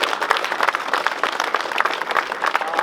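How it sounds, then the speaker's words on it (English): A crowd of airsoft players at an outdoor event claps steadily in a dense, continuous round of applause, fairly loud and close throughout. "Big round of applause guys,"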